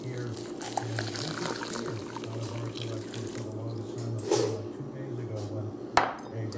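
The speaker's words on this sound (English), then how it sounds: "all you do is add 2 cups of boiling water" Boiling water pours and gurgles onto bulgur wheat in a container under a low background hum, with a couple of sharp clinks of cookware.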